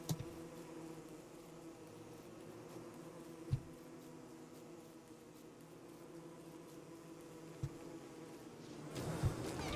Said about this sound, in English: Killer bees.